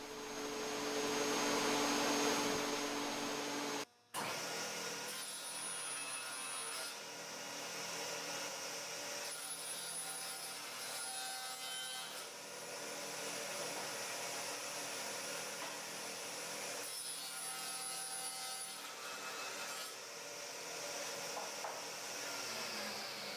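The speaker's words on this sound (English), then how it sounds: "then you're going to cut your MDF to size" A power saw cuts MDF board to size, a loud, steady whining motor drone that runs almost continuously, with one brief cut-out near the start and no voices.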